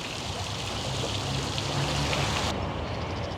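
Park fountains in a city center splash and rush continuously at close range, a dense, steady wash of falling water with no voices.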